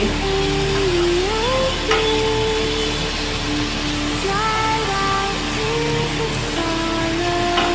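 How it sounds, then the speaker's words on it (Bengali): Dahi tadka sandwich filling of onion, capsicum, coriander, green chilli and salt fries in a pan, a steady close hiss of sizzling throughout with some clatter, no talk. "হালকা একটু ভাজা ভাজা হবে"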